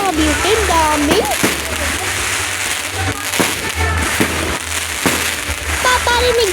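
Fireworks explode in a rapid crackling barrage with repeated sharp bangs, loud and close, while a voice talks over the display and other background voices are faintly present.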